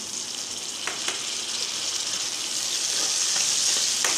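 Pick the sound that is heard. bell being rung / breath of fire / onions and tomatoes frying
onions and tomatoes frying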